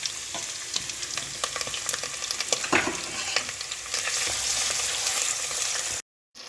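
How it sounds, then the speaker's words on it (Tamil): Whole spices, sliced big onion and green chilies fry in hot ghee for mutton dalcha, a bright, steady sizzle with crackles and stirring scrapes, close and unbroken until a brief cut near the end. "நெய் சூடாகிடுச்சு பாருங்கள். ஸ்பைசஸ், பெரிய வெங்காயம், பச்சை மிளகாய்,"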